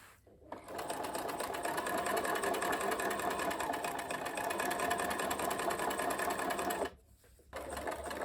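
A sewing machine runs a straight seam on a tool roll, a fast continuous mechanical whir that holds steady for several seconds, stops briefly, then starts again.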